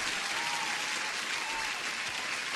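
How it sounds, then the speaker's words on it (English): Applause rings out during a live day-trading stream celebrating a trader passing a funded-account challenge, a steady dense wash of claps with no voices over it. "Let me give you an applause"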